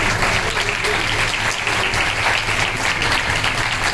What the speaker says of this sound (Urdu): آئیے اچھے خدا کے لیے تالیاں بجائیں